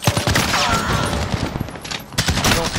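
Dense, rapid gunfire from a Modern Warfare shooter, a loud sustained fusillade of overlapping shots with a brief lull before another burst near the end.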